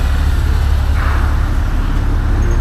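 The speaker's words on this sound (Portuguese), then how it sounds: "Os carros entrando." Cars roll onto a ferry in a loud, rumbling low vehicle drone filling the enclosed deck, with a brief hiss or squeal rising near the middle.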